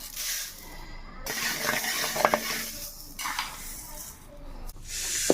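Mustard seeds dry roasting in a pan alongside coriander and cumin seeds for Andhra curry spice powder, giving a steady light rustle and scrape of stirring with a few soft clinks, close and moderately loud, no voices.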